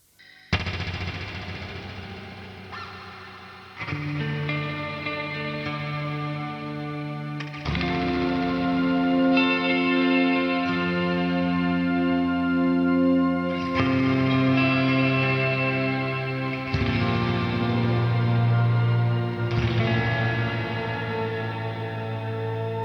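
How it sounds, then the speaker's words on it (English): TC Electronic Plethora X5 pedalboard on a clean ambient setting with a compressor, infinite delay and very long reverb, shimmering sustained guitar chords that wash and overlap continuously at steady loudness, no talking. "a compressor before, a reverb, really long reverb, and if you want you can add some octave"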